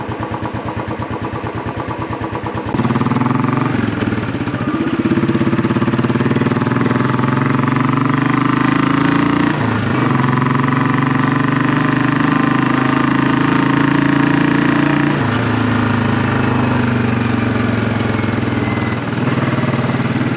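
A classic 500 motorcycle fitted with a Hitchcock's Goldstar exhaust idles steadily at close range, a deep even thump that holds for about twenty seconds with slight swells in pitch, starting up loud after a brief quieter opening.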